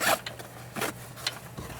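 Zipper on a MOLLE panel bag pocket for an SUV, pulled in several quick rasping strokes, close and clear with no talk.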